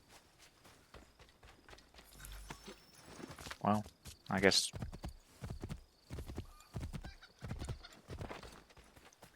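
A horse in the video game Assassin's Creed 3 gallops with rapid rhythmic hoofbeats, then whinnies loudly a couple of times mid-run, close and prominent, while someone talks over it.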